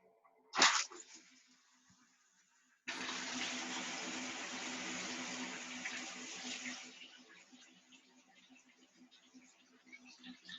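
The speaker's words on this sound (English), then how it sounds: "Somebody's asked, Emma, if you would be okay to actually try to turn on the shower just to kind of hear." A bathroom shower in an Edinburgh flat is turned on after a sharp click, and water gushes at full pressure for several seconds before easing to a softer patter, heard through a call without talk.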